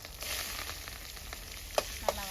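Spices, curry leaves and onion sizzle steadily in hot oil, close and continuous, with a couple of sharp pops breaking through the frying hiss.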